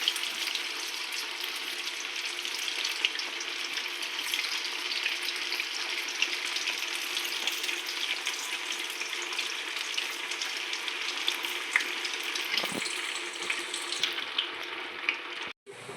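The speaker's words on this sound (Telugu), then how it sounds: "మనము వేసుకొని మంచిగా డీప్ ఫ్రై చేసుకున్నామండి" Paneer pieces deep fry in hot oil over a medium flame, giving a steady, dense sizzle and crackle that runs close and unbroken for the whole stretch, with a clatter near the end.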